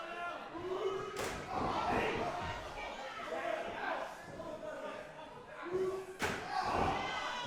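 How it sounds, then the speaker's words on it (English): Two sharp steel chair shots in a wrestling match ring out about five seconds apart, loud slams cutting through a steady crowd roar and chatter in an indie wrestling arena. "Another chair shot to the back of Nate"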